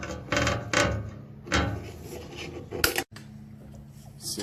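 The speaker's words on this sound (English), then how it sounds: "I'm going to cut the sleeve." A mower throttle cable's outer sleeve is snipped with cutters in a few sharp separate clicks and crunches, up close, with light handling noise between them.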